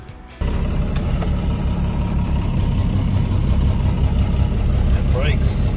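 A Cummins 6BT diesel swapped into a Nissan GU Patrol, with a leaky injector hose, fires up and runs loud and close with a steady low rumble and clatter after a brief quieter moment; speech is faintly present.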